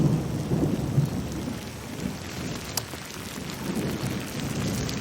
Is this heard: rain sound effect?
yes